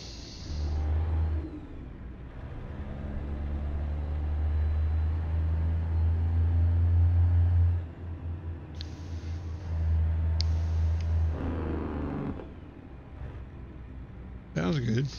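A Kenworth truck engine in American Truck Simulator pulls away and builds speed with a steady low diesel drone and rising revs, loud throughout, with brief air hiss and short breaks as gears shift.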